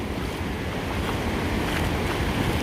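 Ocean surf rolls against the shore on a morning walk before rain, a constant broad wash of waves mixed with buffeting wind across the microphone, loud and unbroken with no voices.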